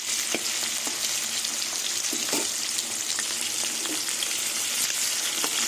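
Katla fish fries in oil with a steady, dense crackling sizzle throughout, with occasional pops and no voices.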